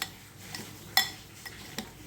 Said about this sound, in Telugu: ఇప్పుడు మొత్తం బాగా మిక్స్ చేసుకోండి